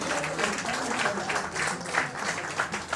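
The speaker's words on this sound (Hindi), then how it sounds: "तालियां बजती रहनी चाहिए।" An audience claps without a break throughout a book launch ceremony. The applause is dense and steady, and sits at a moderate distance.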